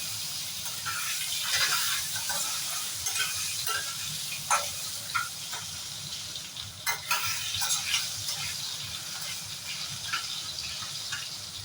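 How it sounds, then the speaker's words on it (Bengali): Potatoes sizzle steadily in hot oil in a pan for a Bengali-style rohu fish cumin curry, with a constant close frying hiss broken by light stirring clinks and scrapes. "আলুগুলো ভাজা ভাজা হবে"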